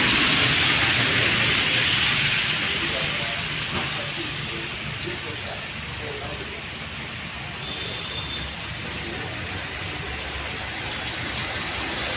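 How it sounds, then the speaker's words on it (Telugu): Heavy rain pours steadily onto a city street near a mall in Nellore, a dense continuous hiss that is loud and close throughout. "ఇక్కడ ఎంజీ మాల్ పరిసర ప్రాంతాల్లో కూడా భారీ వర్షం కూడా కురుస్తుంది"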